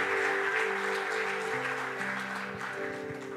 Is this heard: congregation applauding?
yes